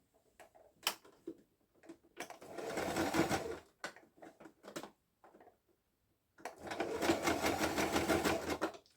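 A sewing machine stitching blanket pieces together runs in two sustained whirring bursts, close and clear, separated by soft clicks and handling taps, with a short stop between runs.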